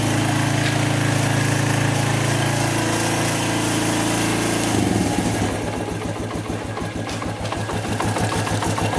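A Suzuki quad engine idles with the choke on, a steady close, loud mechanical drone that settles midway into a lower, lumpier idle rhythm.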